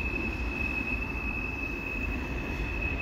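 A CN eastbound mixed freight train rolls past on a city track along Notre Dame Street in Montreal, a steady low rumble of wheels with a thin sustained squeal, fairly quiet and with no talk.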